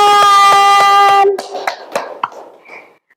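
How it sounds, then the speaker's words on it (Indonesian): A group claps in a lesson, brief and scattered, a few quick claps fading out after a loud sustained musical tone cuts off. "terima kasih, tepuk tangan."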